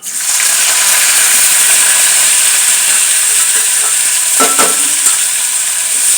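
Crushed onion sizzles loudly in hot oil with cumin, a steady bright frying hiss filling the whole stretch, with a few scraping stirs near the end.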